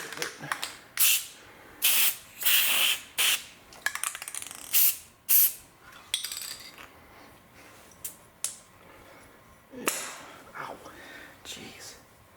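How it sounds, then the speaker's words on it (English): Dry lubricant sprayed onto a seal on the naturally aspirated engine of a 23k-mile Miata, heard as repeated short loud hissing bursts at close range with pauses between them. "I'm just going to use this dry lubricant because I'm feeling it"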